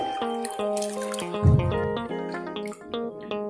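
Sliced potato chips are rinsed by hand in a bowl of water, with close splashes, drips and trickles and a brief louder slosh midway, and no one speaking.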